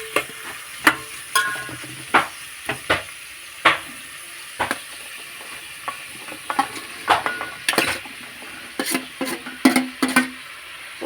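Okra pieces stir-fried in a pan, with a soft continuous sizzle broken by a steady run of sharp utensil scrapes and knocks against the pan, fairly close and without talk.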